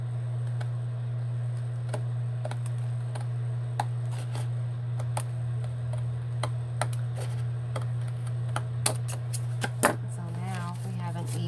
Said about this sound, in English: I'm going to take my scissors. I'm going to trim that.